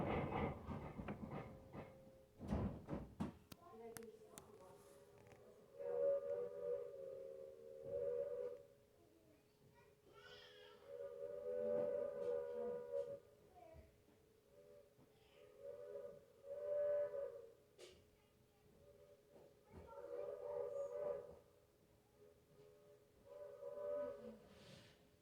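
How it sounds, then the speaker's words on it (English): The whistle of steam locomotive number 475 on the Strasburg Rail Road blows in several long, loud blasts, separated by short pauses, following a burst of mechanical clanking at the start. "our locomotive number 475 comes to a stop here at Carpenter's Crossing and blows her whistle"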